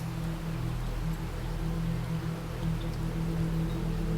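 Steady rain falling on a cold night, a continuous dense hiss of drops under a low constant hum, with no pauses and no voices.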